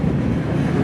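White Pass & Yukon Route Railroad train running on the line between Skagway and the summit, a steady close rumble with rhythmic wheel clatter, alone with no talking.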